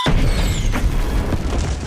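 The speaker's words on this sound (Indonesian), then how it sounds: "suara ledakan muncul" A deep booming blast rumbles loudly from the start, its low roar lingering and churning throughout without any voices.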